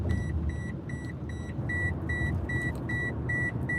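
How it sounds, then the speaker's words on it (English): Car seatbelt warning chime beeping in a regular rhythm, about eight evenly spaced clear tones over a low engine and road rumble inside the vehicle. "that is my seatbelt beeping because I don't wear a seatbelt"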